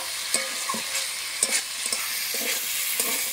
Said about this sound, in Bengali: আলুগুলো দিয়ে ভালো করে মশলার সঙ্গে কষিয়ে নেব